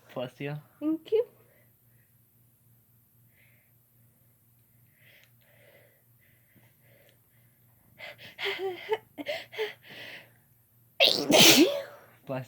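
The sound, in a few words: person sneezing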